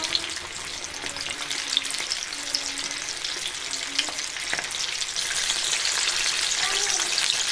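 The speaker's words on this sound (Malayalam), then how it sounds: "ഒരു മീഡിയം ഫ്ലെയിമിലിട്ട് നമ്മൾ ഇതൊന്ന് ഡീപ്പ് ഫ്രൈ ചെയ്തെടുക്കാം." Chicken pieces deep frying in oil over a medium flame, a steady close sizzle and crackle of bubbling oil running throughout with small pops and bursts, growing slightly louder toward the end.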